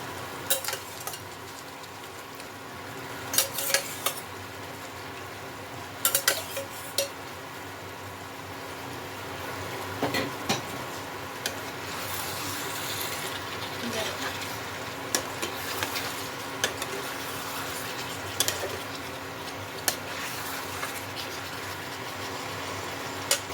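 Chicken sizzles in a pan for Chicken Chaap: a soft, continuous frying hiss broken by frequent scraping clicks and knocks of stirring, heard close and without talk.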